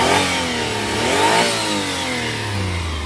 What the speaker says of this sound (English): Very nice, healthy sounding engine, nothing crazy. Give you a couple revs.